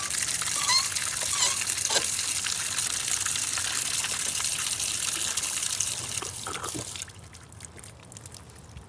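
Water drains and trickles from a Woodford Model 17 freeze-proof outdoor faucet, a steady close hissing flow that thins and stops near the end, with no talking.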